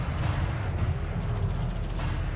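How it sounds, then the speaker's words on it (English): Railgun units trade fire in the strategy game Artifact, a dense, continuous barrage of rapid gunfire and booming impacts, loud and unbroken for the whole stretch. "Here's the railgun fight"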